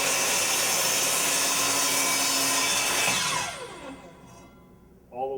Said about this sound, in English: We're going to start the saw, slowly plunge in the material.